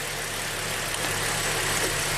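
A GM V6 engine idles with a steady low rumble, running rough and stumbling while an exhaust cam sensor pin is grounded, heard alone and fairly close for a couple of seconds.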